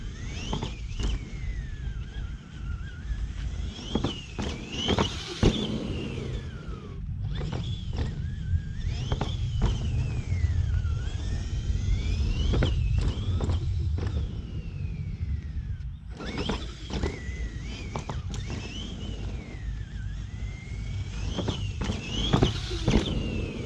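An Axial SMT10 Cobra Kai RC monster truck runs laps around a little cone-and-ramp track, its electric motor whining up and down in pitch continuously for over twenty seconds, close and steady, with occasional clacks and bumps and no voices.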